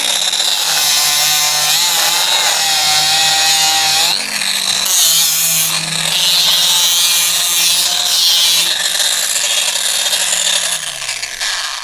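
A Tyrolit abrasive tool grinds away a weld seam in a loud, continuous metallic whine that stays up close for the whole stretch, with its pitch wavering as the contact pressure shifts and a short dip near the middle.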